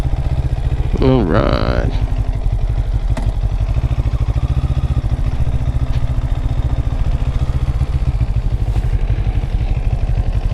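A 2022 CFMOTO 700CL-X motorcycle engine runs steadily while riding through easy turns, a continuous close drone with wind rush throughout, and a rider speaks briefly near the start.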